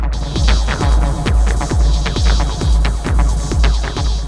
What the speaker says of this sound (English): I try to find a rhythm with the LFOs and the filters on the alpha bass